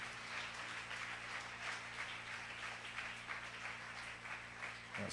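A church congregation applauds and claps in praise of the Lord at a worship conference, a steady wash of many hands sustained throughout with a low hum beneath.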